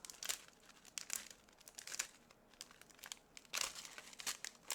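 A piece being peeled off a paper shaker card, heard as a close, soft crinkling and tearing rustle in several bursts, fairly faint, with no talking.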